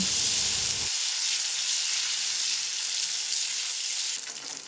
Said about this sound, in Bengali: কাজু আর কিশমিশ দিয়ে একটু ভেজে নেব